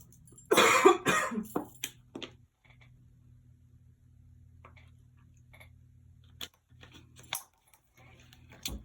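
A burst of harsh coughing and throat clearing up close, followed by quiet with a faint hum and a few small clicks.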